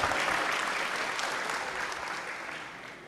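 An indoor audience claps steadily for a high-school student at a public discussion. The dense applause starts loud and slowly fades over a few seconds.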